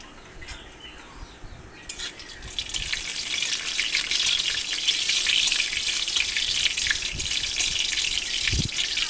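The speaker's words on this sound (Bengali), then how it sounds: "পরিমাণ মতো ঘি দেওয়ার পর দুটো দিয়েছি তেজপাতা, এলাচ, কাঠ মশলা, লং, এগুলো দেওয়ার পর হালকা ভেজে নিব" Bay leaves, cardamom, cloves and other whole spices fry in ghee for semai, a soft hiss that swells after a couple of seconds into a steady, close sizzle with no voices.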